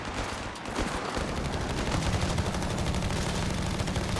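A British machine gun fires steadily in Company of Heroes 3 amid dense battle noise, a continuous rattling stream of rounds at a close, loud level with other gunfire mixed in.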